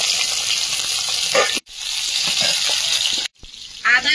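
Whole spices, bay leaf, chopped onion and slit green chilies fry in hot oil for a papaya chicken dish, a steady loud sizzle that cuts out briefly twice, with stirring noises and no clear talk.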